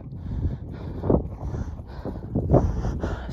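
Strong headwind roaring across the microphone while cycling uphill near the Sangam river in Ladakh, a steady rumbling buffet with louder gusts, close and continuous.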